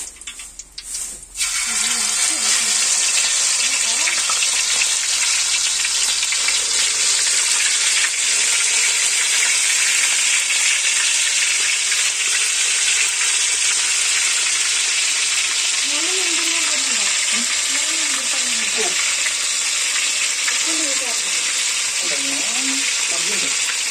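Masala-marinated chicken fries in a pan with a loud, steady sizzle that starts abruptly after a brief quiet opening and holds evenly to the end, with faint voices in the latter part.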